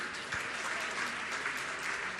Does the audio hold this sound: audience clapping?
yes